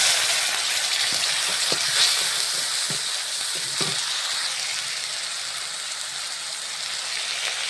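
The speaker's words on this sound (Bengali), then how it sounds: "সব রকম পেস্ট করা মশলা ঢেলে দিলাম।" Ground spice paste hits hot oil for a fish curry, giving a loud, steady, close sizzle like heavy rain, with a few soft spoon taps early on.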